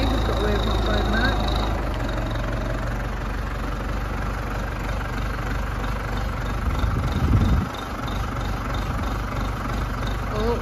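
A vehicle engine idles steadily close by with a low rumble while stopped, and a brief clunk and surge near the end marks the driver changing gear.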